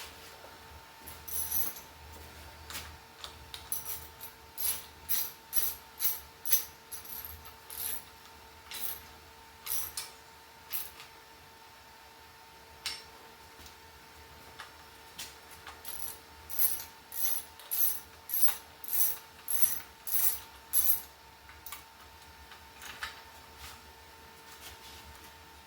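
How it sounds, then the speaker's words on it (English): Socket wrench ratcheting 14 mm nuts on a BMX Raceline Huffy cruiser bike, giving bursts of quick metallic clicks in rhythmic strokes with short pauses between, close and moderately loud over a steady faint hum. "These are 14 millimeter, these nuts."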